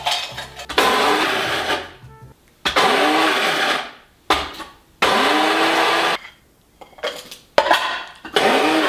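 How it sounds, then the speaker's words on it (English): Nachos ground in an electric grinder, run in several loud whirring bursts of one to two seconds, each with a rising motor pitch, separated by brief silences. "Let me grind my nachos. Do I get the grinder?"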